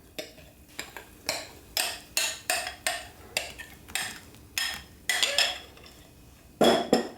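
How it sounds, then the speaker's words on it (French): Utensil scraping and clinking rhythmically against a bowl while mixing melted marshmallow into a sugar batter, a steady series of close stirring strokes. "Je mélange comme il faut."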